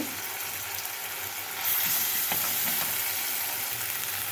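Turmeric and ginger-garlic paste fry and get stirred in a pan, giving a steady close sizzle that swells louder partway through, with scraping stir strokes over it and no voices.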